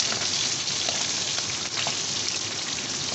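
Pork pieces browning golden in a frying pan give a steady, dense sizzle with scattered small pops, close and continuous throughout with no voices.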